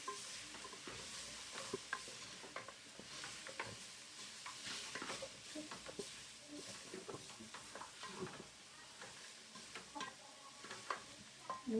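Pilau seasoned with garlic powder is stirred in a hot pot, with repeated scraping and clacking strokes over a steady sizzle, close and fairly quiet.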